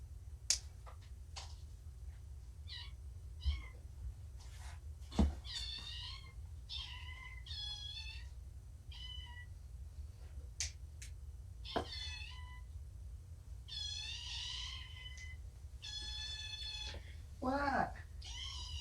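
Kittens give a string of thin, high-pitched meows, some drawn out and wavering, scattered across a quiet indoor room over a low steady hum, with soft clicks and handling noises in between.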